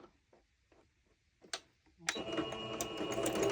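A sewing machine starts a straight stitch, first a few soft ticks and clicks close by, then a fast, steady whirring chatter that runs on to the end.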